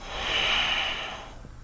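Slow, steady breath during a yoga flow, one long airy exhalation that fades out near the end, soft and close with no talking.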